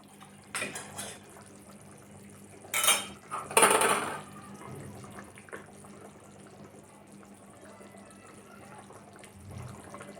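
A pot lid lifted off a simmering pot of sandge curry with a sharp metallic clatter, followed by spoon clinks against the pot and faint bubbling, close by and otherwise quiet.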